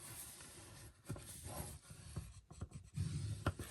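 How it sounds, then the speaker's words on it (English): Paper card tab being folded and burnished by hand, soft scratchy rubbing and swishing strokes in short irregular bursts, close and quiet. "So what we're going to do is fold and burnish that tab"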